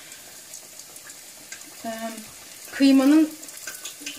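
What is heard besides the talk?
Tatar börek (belyash) frying in oil in a pot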